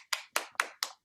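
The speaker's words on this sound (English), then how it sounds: "Let's give a Dan, quick round of applause or a reaction clap" Four sharp, evenly spaced hand claps ring out close and clear in quick succession, a short applause for a speaker at a talk about self government, with no voices over them.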